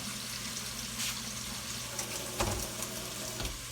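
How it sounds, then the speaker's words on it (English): Food sautes in a pan for a turkey pot pie, giving a steady soft sizzle with a few light stirring clatters. It is close and fairly quiet, with no talking. "just gonna kind of saute it up a little there"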